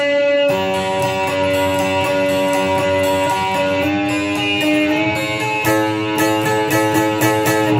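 A strummed guitar chord rings out sustained and bright, repeated several times in a steady rhythm with some higher notes, clear and close.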